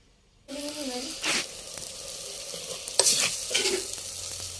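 Garlic and gunda (lasoda) flowers fry in a pan with a bright, continuous sizzle that starts abruptly after a moment of silence, with a voice briefly heard over the frying.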